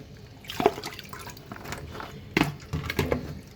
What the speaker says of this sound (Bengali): আরেকটা চালনিতে রেখে দিচ্ছি পানি ছড়ানোর জন্য